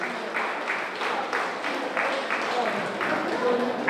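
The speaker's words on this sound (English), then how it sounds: "give them a big, big, big, big round of applause" An audience applauds steadily to welcome new members at a seniors' gathering, a dense crowd of clapping hands that stays loud and even throughout, with no one speaking.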